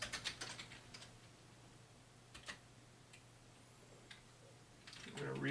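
Keys clatter on a computer keyboard during serial console work on a Linksys E2000 router, a few quick bursts of clicks followed by sparse single taps, faint over a steady low hum.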